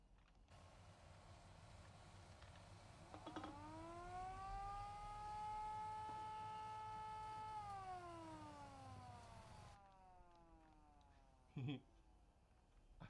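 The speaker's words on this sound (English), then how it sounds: "There's also a warning siren on it, which I'll trigger." A rising warning siren wails on the MPV multi-purpose vehicle in Train Simulator Classic. It holds a steady loud tone for several seconds, then sinks away and cuts off, with a sharp clank afterward.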